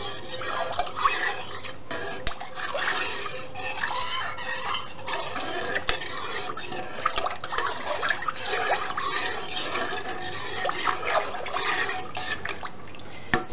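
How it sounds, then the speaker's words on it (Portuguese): Cachaça sugarcane spirit trickles and drips steadily into a milk punch mixture in a container, close and continuous, with no voices. "Agora a gente acrescenta a água ardente."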